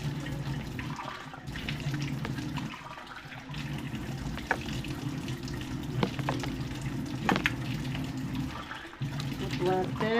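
Water pours and splashes steadily, like a running tap filling a container indoors, fairly quiet with a few clinks and faint voices in the background.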